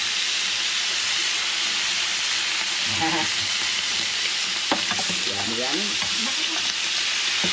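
Beef sizzles and spits in a hot pan, a dense steady frying hiss close by, with utensil clinks and a few brief spoken words over it.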